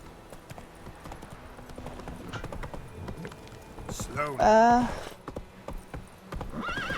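A horse in The Witcher 3 whinnies loudly midway over a quiet, steady clip-clop of hooves, while someone talks briefly.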